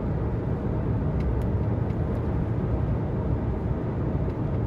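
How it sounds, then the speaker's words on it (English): Exhaust drone of a truck fitted with a Walker Quiet Flow muffler, heard from inside the cab as a steady, muffled low rumble with no talking. "this is what Walker Quiet Flow sounds like on the inside."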